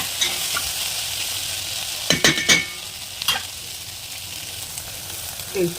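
Okra fry seasoned with coriander powder and garnished with coriander leaves is stirred in a hot pan, with a steady sizzle under a few sharp scraping clatters of the spatula against the metal.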